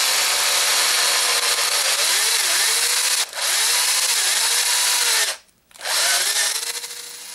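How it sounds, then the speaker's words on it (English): A case trimmer cutting the excess off a 45 Long Colt brass case runs as a loud, steady, high-pitched grinding whir for about seven seconds, with a brief dip near the middle and a short stop before it resumes. "that'll trim the excess off of this brass"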